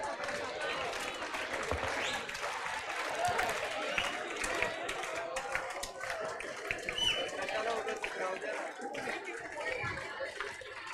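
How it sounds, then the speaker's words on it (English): A classroom group claps loudly and sings a birthday song together, a dense continuous wash of applause and voices carrying through the whole stretch without pause. "Loud clap and loud song."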